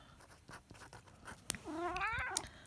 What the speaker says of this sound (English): there's one of my cats